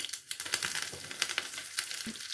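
Dried red chilli and mustard seeds sizzle and crackle in hot coconut oil for a quick moru curry, a soft, close, continuous frying hiss with scattered pops and no talking.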